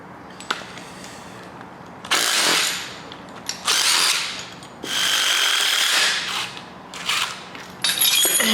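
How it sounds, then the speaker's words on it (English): Power tool with a 1/2-inch socket spinning out bolts on a Ford 302 small block engine during teardown, several loud whirring bursts of one to two seconds each, separated by short quiet gaps. "Remove our bolts here."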